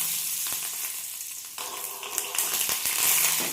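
Mustard seeds and fenugreek seeds crackle and sizzle in hot coconut oil in a pan, a dense, steady frying hiss with scattered sharp pops that grows busier and louder toward the end, close up with no voices.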